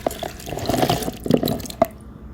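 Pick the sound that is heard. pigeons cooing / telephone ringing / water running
water running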